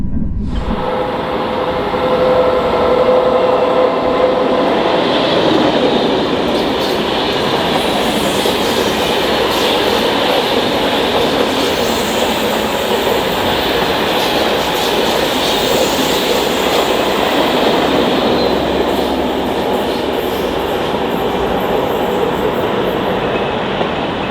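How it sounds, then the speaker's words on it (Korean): A KTX high-speed train rolls past steadily near a rail depot in Seoul, its wheels rumbling with a continuous clattering roar, loud and close throughout with no voices. "곧이어 독산역과 가산 디지털 단지역을 통과한 열차는 고로 차량기지 인근을 통과합니다"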